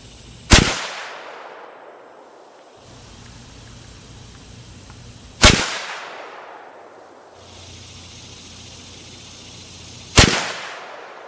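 Three loud, sharp .270 Win rifle shots firing Remington Premier Scirocco Bonded ammunition, evenly spaced about five seconds apart, each a close crack followed by a decaying outdoor echo, with no talking.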